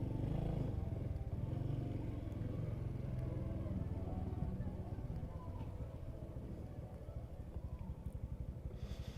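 A Honda Super Cub 125 motorcycle rumbles steadily up close as it rides and hops over a sidewalk, the engine note dense and continuous with some clatter, easing slightly toward the end.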